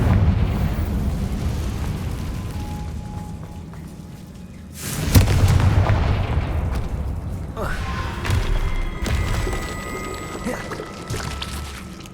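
A Confringo fire spell bursts in Hogwarts Legacy, a sudden loud explosive blast that swells over a steady game ambience and trails into a long rumbling, crackling decay, with a second fainter impact a few seconds later.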